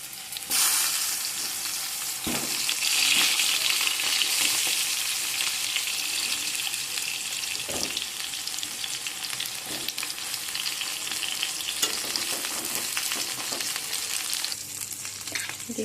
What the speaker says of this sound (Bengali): এবার কেটে রাখা বেগুনগুলো দিয়ে দেবো